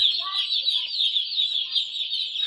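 Newly hatched native chicks in a brooder cheep in a dense, continuous high-pitched chorus, close and fairly loud, with a few lower clucking notes at the start.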